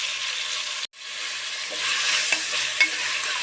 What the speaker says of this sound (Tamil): இஞ்சி பூண்டு பேஸ்ட் பார்த்தீங்கன்னா நல்லா பச்சை வாசனை போகிற வரைக்கும் நல்லா வதக்கி விட்டுக்கோங்க